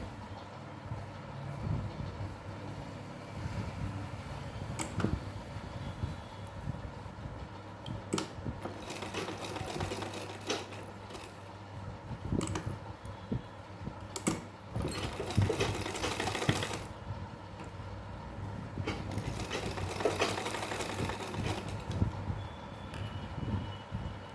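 A sewing machine stitches lace onto fabric in rapid whirring bursts, stopping and restarting several times, with faint handling noises between runs and no talking.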